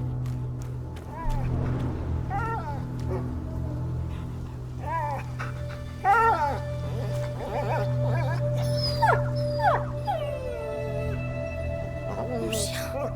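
A dog named Lion whimpers and howls in distress in the video game A Plague Tale: Innocence, plaintive rising yelps and whines repeating at moderate distance over a low background hum, with voices speaking in between.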